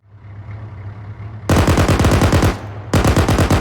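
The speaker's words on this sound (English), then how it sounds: "Well, I'll pick a shot across his nose." Rapid automatic gunfire in a military shooter video game, loud and close, with a steady hum leading into two sustained bursts of rattling shots separated by a short gap.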